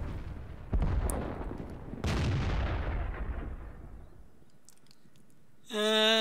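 Two heavy booms from an SU-14-1 self-propelled artillery gun in a tank video game, each blast followed by a long rumbling decay, then a brief electronic tone.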